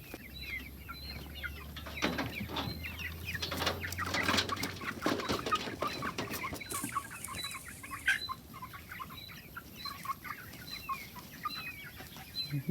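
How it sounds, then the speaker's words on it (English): Chickens cluck and chatter busily in a farmyard coop as they forage among raspberry canes, a dense overlapping chorus of short clucks with occasional wing flaps, fairly close and steady throughout. "There are some very happy chickens,"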